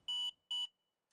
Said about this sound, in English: An audible alarm should sound like this.